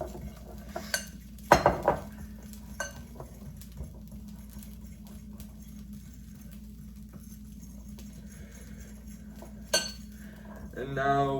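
Dishes and cutlery clink in a kitchen while food is mixed, a few sharp knocks and scattered light clatters over a low hum, with a louder clatter near the end.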